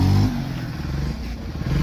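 A motorcycle engine roars up close during a wheelie with a small child riding aboard, a loud rough rumble that surges at the start and end with some clattering.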